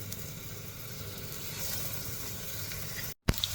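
Breadcrumb-coated chicken cutlets fry in hot oil in a pan, a steady close sizzling hiss that cuts out briefly near the end and resumes with a small clatter.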